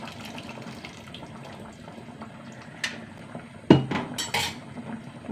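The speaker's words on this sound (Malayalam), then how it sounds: "കുറച്ച് പുളിവെള്ളം ഒഴിച്ച് കൊടുക്കുക." Tamarind water is poured into sambar cooking with fried okra, giving a short liquid splash and a clink of the vessel near the end, over a low simmering background.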